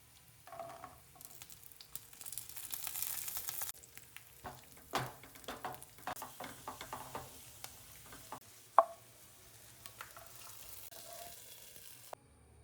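Ongoing sizzling and crackling of raisins frying in hot ghee, with intermittent stirring scrapes and one sharp clink near the end.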